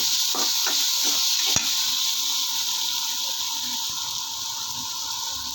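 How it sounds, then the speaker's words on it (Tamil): Raw mango pieces sautéing in a pan for Tamil New Year mango pachadi, a steady close sizzle with a few stirring scrapes and taps near the start, no voices. "இந்த மாங்காயை நல்லா வதக்கிக்கலாங்க"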